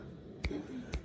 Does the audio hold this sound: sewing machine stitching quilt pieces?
no